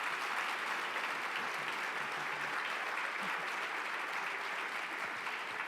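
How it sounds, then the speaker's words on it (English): Conference audience applauding after a legal panel, a steady, dense wash of many hands clapping that holds evenly throughout, moderately distant with no voices over it. "Let's give them both a big round of applause."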